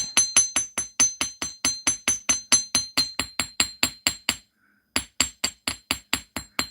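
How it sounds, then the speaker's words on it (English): A chasing hammer strikes metal being flattened and squared, about two dozen sharp, ringing blows in a steady rapid rhythm, close and loud, with one brief pause before the hammering resumes. "Now I just flip over my chasing hammer when I'm doing this and use the other side."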